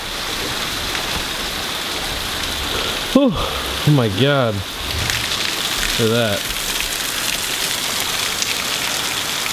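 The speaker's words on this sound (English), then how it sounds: "It is seriously like insane how much it's pouring right now." Heavy rain pours steadily outside in a dense, continuous hiss that fills the whole stretch, with a person's voice briefly exclaiming over it partway through.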